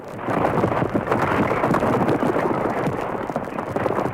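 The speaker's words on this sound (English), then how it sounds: "Suddenly, with a violent explosion, the top of the mountain blew off" Volcanic eruption sound effect as a mountaintop blows off and lava shoots up in a Planet of the Apes audio story: a loud, sustained, rumbling roar that swells in quickly and holds steady.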